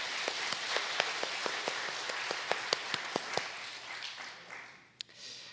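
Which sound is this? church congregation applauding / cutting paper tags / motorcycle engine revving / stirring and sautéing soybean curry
church congregation applauding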